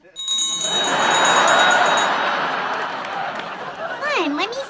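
A bell sound played from a phone app rings out over a noisy room with continuous background chatter, followed by a short rising-and-falling whistle-like tone near the end.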